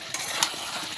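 Paneer curry cooks in a pan with ginger paste, cumin powder, chilli powder, green chillies and tomato, giving a continuous close sizzle with a couple of short scraping stirs.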